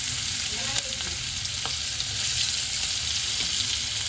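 Chopped green chillies fry with hot cumin in a pan, making a dense, constant, close sizzling hiss with faint stirring scrapes and no talk.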